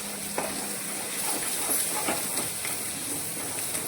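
Dry whole spices roasting for masala in a pan, a soft steady crackle and hiss with occasional light stirring scrapes, close and continuous without any talk.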